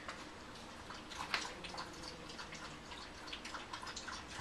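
A dog laps water from its bowl, with soft, irregular wet drips and splashes over a few seconds in a quiet indoor room.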